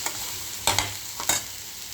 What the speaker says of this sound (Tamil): கொண்டக்கடலை ஊற்றியெல்லாம் இதை இதில் சேர்த்துறோம் சேர்த்து ஸ்டவ்வை கொஞ்சம் கூட வச்சுக்கோங்க இப்போ இது நல்லா கிளறி எடுத்துக்கிடுவோம்